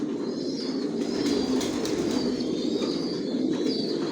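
Pigeons in a five-storey racing-pigeon breeding loft coo in soft, overlapping rolls over a constant hum. Faint chirps and wing flutters come through as well.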